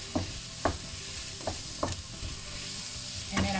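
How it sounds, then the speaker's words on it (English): Carrots and celery stir-fried in a pan as the vegetable base for red-wine braised beef cheek, a steady low sizzle broken by several sharp stirring scrapes and clatters, close and alone without talk. "and the celery. Give it a good stir fry."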